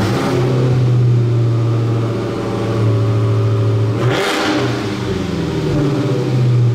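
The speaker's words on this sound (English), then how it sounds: "the exhaust pipes automatically open when you rev the car over 3000 RPM to release that brutal V8 growl" A Dodge Challenger Hellcat V8 revs with its exhaust open, a loud, close, deep growl that holds and swells, briefly drops, then surges again, with no talking.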